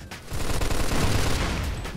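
Sustained gunfire from the Mafia II demo, a dense, loud burst of rapid shots and clatter that runs almost unbroken for about two seconds with no talking.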